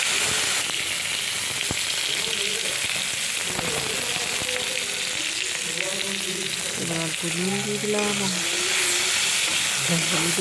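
Eggplant pieces fry in oil in a wok still hot from frying fish, giving a loud, continuous close sizzle, with brief tonal wavering sounds rising above it near the end.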